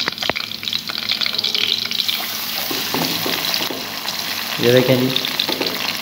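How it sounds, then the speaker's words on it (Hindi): Onions fry in hot oil for bhuni chana dal, giving a steady crackling sizzle with scattered stirring clatter and a brief louder burst near the end. Someone speaks briefly over the cooking. "सबसे पहले हम डालेंगे प्याज। और इसे भून लेंगे इसके अंदर।"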